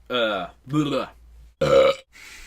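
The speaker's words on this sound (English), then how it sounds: "that was a proper good Barney burp, that was" Several loud, deep, drawn-out burps come in quick succession, close to the listener with short pauses between them, the third the strongest, and a weaker one trailing off at the end.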